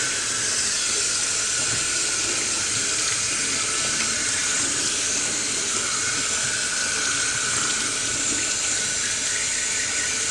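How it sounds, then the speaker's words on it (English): Cold tap water runs in a steady, continuous hiss over drained pasta in a kitchen sink, close and fairly loud with no talking throughout. "I'm going to run cold water to stop them from cooking."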